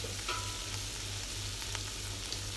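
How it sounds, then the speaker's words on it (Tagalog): Squash and shrimp sauté in a pan for ginataang kalabasa na may hipon, giving a steady, close frying sizzle with a low background hum and a few faint stirring clinks, no voices. "Tapos gisahin mo lang yan ng gisahin."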